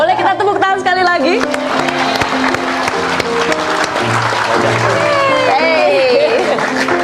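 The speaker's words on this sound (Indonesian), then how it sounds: "Boleh kita tepuk tangan sekali lagi?" Audience applause at an Indonesian stage event, clapping and chatter blended with loud music and voices, dense and continuous throughout.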